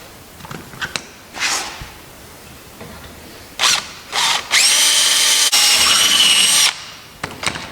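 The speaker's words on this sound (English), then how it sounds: "we're going to back drill this hole with a 3/16 drill" A 3/16 drill bores a hole in an Aerolite 103 aircraft wing during assembly: a few short tentative bursts, then a loud sustained whine lasting about two seconds, close up with no talking.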